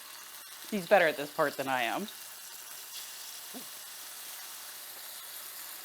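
A soft, steady sizzle of tofu frying in a pan runs throughout, with a person speaking briefly near the start.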